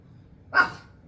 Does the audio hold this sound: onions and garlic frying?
no